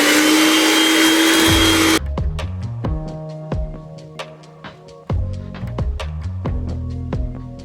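An electric mixer whirs steadily while mixing a filling for a Thanksgiving dinner, then cuts off and gives way to clicky, tapping sounds that fill the rest of the clip.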